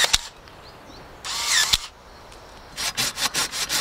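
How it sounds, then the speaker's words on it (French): A handsaw cuts through a fruiting spur on an apple tree, giving a short burst of rasping strokes near the start, then a quieter pause, then a run of regular, close, even strokes toward the end. "je suis en train de vous scier une coursonne, donc un support de fructification"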